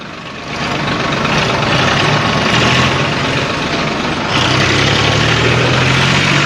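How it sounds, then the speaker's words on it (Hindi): Tractor engine in a farmers' tractor march through Gharaunda, a heavy diesel rumble heard close and loud, running continuously with a slight rise in load partway through and steady road noise. "हम भी इस ट्रैक्टर पर सवार होकर चलते हैं।"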